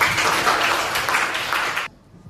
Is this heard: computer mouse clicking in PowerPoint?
no